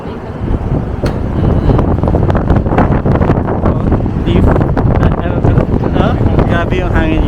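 Strong, cold wind in Hong Kong buffets the microphone in a constant, loud roaring rush with gusty swells throughout, while people speak faintly under the blustering noise.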